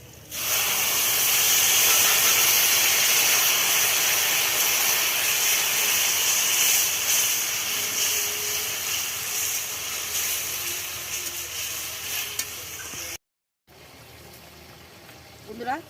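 Spiced paste tipped into a hot pan of tender pui shak (Malabar spinach) curry with turmeric, hissing and sizzling loudly at first, then settling into a steadier, quieter frying crackle with a brief break near the end.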